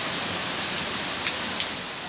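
Heavy rain pours in Hong Kong amid strong wind, a dense steady hiss of falling water with a few sharper splashes and drips standing out, continuous and fairly close, with no voices.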